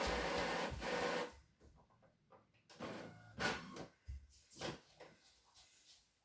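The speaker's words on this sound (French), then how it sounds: "moi, ce sera sur une imprimante" An inkjet printer in a home setting, producing a few loud mechanical bursts and whirs separated by quieter gaps, with no talking.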